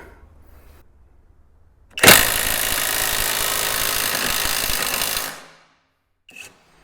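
A cordless impact wrench in reverse hammers a nut loose, bursting in abruptly with a loud, steady rattling buzz for about three seconds before cutting off, followed by a brief faint click, with quiet surroundings before and after.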